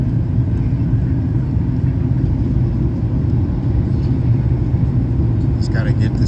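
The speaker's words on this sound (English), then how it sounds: "Speed brakes are on, as you can hear them." Inside a Boeing 737 MAX 8 cabin on descent with the speed brakes deployed, a loud constant low rumble and rushing airflow fill the air, with a brief faint voice near the end.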